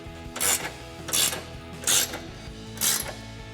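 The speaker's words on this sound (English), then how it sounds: "we're gonna start by tightening our adjuster bolt back here, 18mm wrench and 21mm ratcheting wrench" Ratcheting wrench tightening an adjuster bolt on a 2015-2025 Ford Mustang's adjustable rear toe link, with four short, close ratchet clicking bursts at an uneven pace and no speech.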